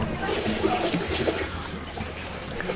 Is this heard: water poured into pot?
yes